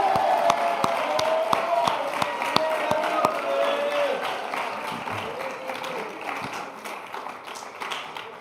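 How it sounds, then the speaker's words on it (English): A school awards audience at a church gathering breaks into loud applause with scattered cheers, many hands clapping close and dense, with a few sharp individual claps standing out before the ovation gradually softens. "we're going to get an even louder applause for him"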